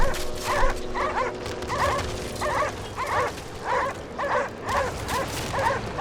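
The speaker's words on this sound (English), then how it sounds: "That means the dogs got left out here." Dogs in the video game Cryostasis yelp and whimper in a steady string of sharp, evenly spaced cries, loud and close, repeated about ten times over a low droning background.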